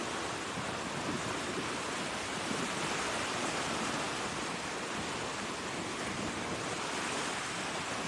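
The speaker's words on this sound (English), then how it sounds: "It's very windy today" Strong wind on the Lake Huron shoreline near a lighthouse roars as a constant, loud broadband rush, likely blended with surf, with no voices.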